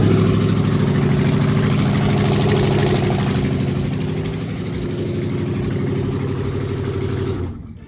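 A Dodge Scat Pack with a 6.4 engine idles with its exhaust manifold removed, loud and rough with an uneven misfiring lope from cylinders 8 and 4, running close up before cutting off at the end.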